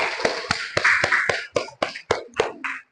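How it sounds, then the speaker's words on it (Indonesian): Class of junior high school students clapping hands in a patterned rhythm, a series of sharp, distinct group claps in quick succession, fairly close and clear with no talking. "Tepuk tangan dulu"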